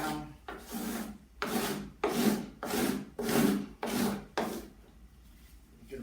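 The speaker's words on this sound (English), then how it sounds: "Now we're just going to use this big old wood rasp. It's made for hardwood." A big wood rasp for hardwood scrapes across balsa wood, being shaped into an aircraft windshield, in seven or eight rhythmic rasping strokes, close and loud, with short pauses between them.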